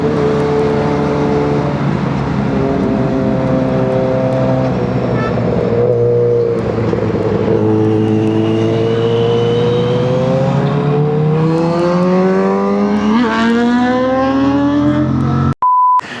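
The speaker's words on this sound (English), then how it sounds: "Just for that sweet inline 4 melody, guys." An inline-four superbike engine on a Sunday breakfast ride, revving loud and close with a rising, sweeping wail that climbs through the gears. It cuts off abruptly near the end, followed by a brief electronic beep.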